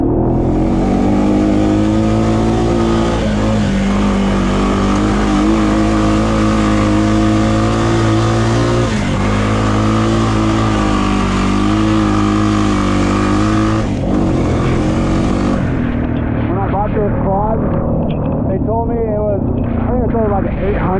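A manual-shift quad bike with no clutch drones steadily while being ridden, its engine note holding loud and even for about fifteen seconds before dropping away, leaving a person talking over a quieter idle.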